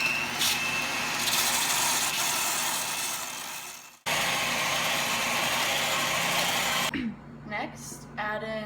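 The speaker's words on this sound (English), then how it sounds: "all I have is this hand mixer" A handheld electric mixer creams butter with a steady close whirring buzz, stopping briefly and then restarting, before it cuts out near the end and a voice speaks over the quieter room.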